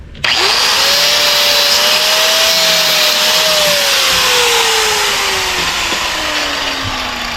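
A cutoff wheel grinds loudly through metal on a 1962 Chevrolet Impala frame-off lowrider project, a sustained, close, high-pitched whine with a slowly shifting tone that holds at full volume for the whole stretch.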